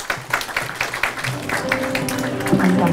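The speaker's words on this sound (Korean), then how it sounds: "여러분 박수로 환영해 주시기 바랍니다" A book launch audience applauds to welcome a speaker: a short burst of clapping at the start, fading quickly as a voice and tones take over.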